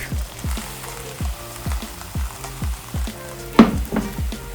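Crepe batter cooks in a hot pan with browned butter, a soft frying sizzle under regular thumping, rhythmic knocks and one sharper clank near the end.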